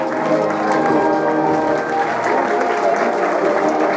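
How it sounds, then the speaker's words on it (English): Loud, steady applause from an audience at a Rose of Tralee finale in a hotel function room, honouring the women on stage, sustained throughout as a dense wash of clapping with light crowd murmur. "Give them a round of applause, ladies and gentlemen."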